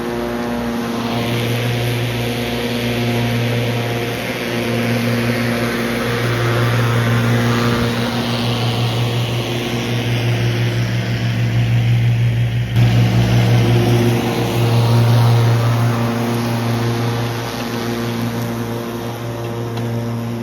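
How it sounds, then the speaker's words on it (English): A tractor runs a finish mower with a steady, loud engine drone and a low, even hum that barely changes throughout. "Finnish mower doesn't do that. It just leaves a really nice clean cut."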